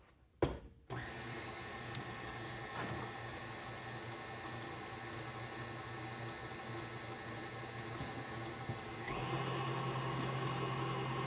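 Brownie batter being mixed with an electric mixer: a steady, close whirring motor hum that runs continuously after a brief clatter at the start, rising slightly in pitch near the end, with no talk.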